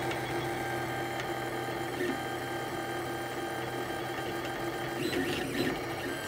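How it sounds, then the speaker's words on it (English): A 3D printer lays down Esun black PETG filament with a continuous close whirring and stepper-motor buzz, a steady mechanical hum and faint shifting tones as the head moves. "So here it is printing."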